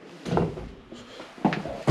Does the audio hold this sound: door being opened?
yes